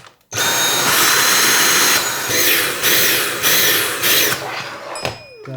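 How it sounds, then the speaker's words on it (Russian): A Dyson V7 cordless stick vacuum running on a rebuilt battery at minimum power starts abruptly, then whines steadily and loudly for about five seconds before winding down near the end. "Вставляю в пылесос на минимальную мощность."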